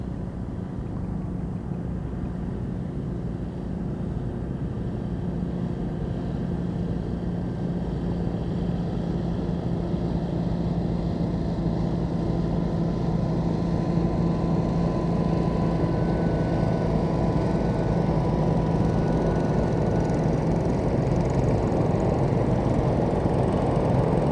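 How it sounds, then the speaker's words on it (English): A continuous low motor drone from several small garden tractors, mostly Cub Cadets, running together at an antique tractor plow day, steady and unbroken for the whole stretch. "invasion of the garden tractors"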